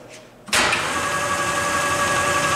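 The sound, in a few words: Hardinge precision lathe running while threading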